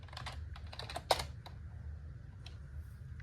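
Fingers tap a computer keyboard in quick, light keystrokes, a short burst then scattered single clicks over a low steady hum, with no voices.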